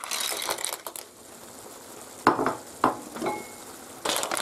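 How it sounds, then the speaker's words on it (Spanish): Clams tumble into a sizzling pan of spaghetti with prawns, landing with clattering rattles and sharp shell knocks over a soft, steady sizzle. "ahora lo que hacemos es echar las almejas"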